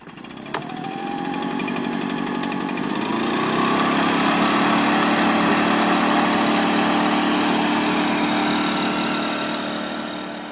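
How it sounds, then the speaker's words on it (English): A leaf blower's small two-stroke engine, powering a homemade hovercraft, sputters to life and revs up to a loud, steady drone that holds for several seconds. "a hovercraft powered by a leaf blower"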